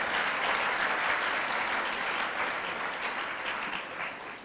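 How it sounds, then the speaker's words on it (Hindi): An audience at a Hindu religious discourse on the Hanuman Chalisa applauds together in a sustained round of clapping that holds steady and then tapers slightly toward the end, with no talk. "अब बजाइए ताली जोड़े से"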